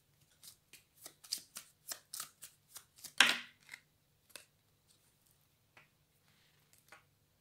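A deck of prediction cards is shuffled in a series of quick, crisp riffling bursts, with one louder flurry midway and then a few scattered soft card taps fading out, close and quiet with no talking.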